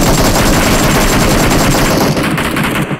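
Sustained automatic gunfire in PUBG Mobile during a bridge fight, rapid and loud, filling the whole stretch without a break before cutting off at the end.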